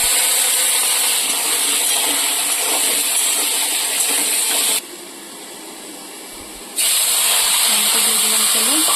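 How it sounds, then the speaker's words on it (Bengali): Lentils hitting hot oil in a kadai give a loud, steady frying hiss that dips quieter for a couple of seconds midway, then surges back to full strength. "ডালটা দিয়ে দিলাম তেলে।"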